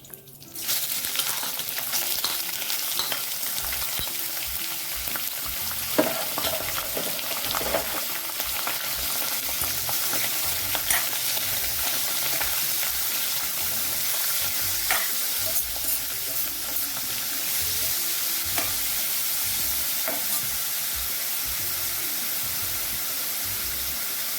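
Prawns frying in a pan with curry leaves, a continuous loud hissing sizzle close by, broken now and then by the scrape and tap of stirring, with no voices.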